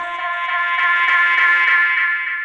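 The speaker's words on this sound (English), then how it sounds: "it creates a kind of loop which makes a kind of submarine" A dub delay feedback loop: a sustained, droning tone with stacked harmonics swells and smears as repeats pile up, giving a murky underwater wash that holds steady throughout.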